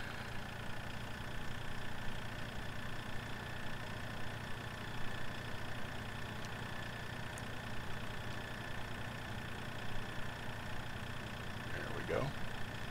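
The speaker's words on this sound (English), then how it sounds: "So let's move this tractor" Steady tractor engine idling in Farming Simulator 2013, a continuous low drone that holds evenly throughout at moderate level.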